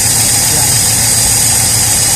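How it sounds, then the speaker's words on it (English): A slant six car engine idles close by, a loud steady hum with a low, slightly uneven pulse, running a little rough. "But that's the slant six. Yeah. They'll run perfectly smooth."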